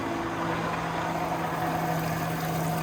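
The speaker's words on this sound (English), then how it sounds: "There you go, you can hear the pumps kicking on." Darkroom water pumps kick on to drain a rinse tank: a steady mechanical hum with faint tonal whine, running continuously, with no talking.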